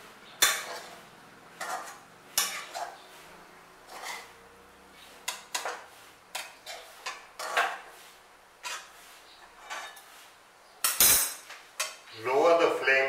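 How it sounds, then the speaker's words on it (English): A spoon clinks and scrapes against a pan as poha and onions are stirred together, a run of sharp, close metallic taps at an uneven rhythm with a quiet hiss near the end. "Mix up the poha and the onions properly."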